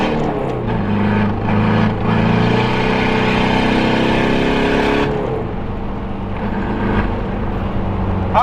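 A car with a nearly worn-out clutch drives along a highway, its engine a loud, steady drone with rising and falling rev pitch and constant road and wind noise, with no talking.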